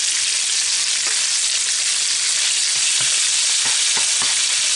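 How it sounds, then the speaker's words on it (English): Garlic sautéing in butter in a pan with lobster, a loud continuous hiss of frying with faint scraping and stirring taps scattered through it, no voices. "I'm going to saute the garlic"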